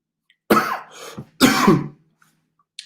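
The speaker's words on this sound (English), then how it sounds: "Sorry for my coughing. I've got a bad cough." Two harsh, close coughs, a short pause between them, then quiet.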